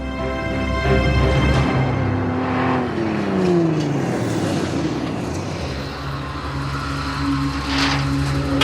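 A pickup truck engine runs steadily while driving, a loud, continuous drone with shifting pitch as it revs and settles, with no voices over it.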